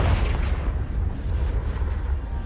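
A deep, rumbling fiery blast from the Confringo spell in Hogwarts Legacy rolls out loud and sustained, with a heavy low boom that slowly tapers.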